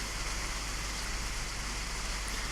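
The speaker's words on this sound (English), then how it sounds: "this is pretty heavy rain" Heavy rain pours down in a dense, steady hiss that stays loud and unchanging throughout, with no voices over it.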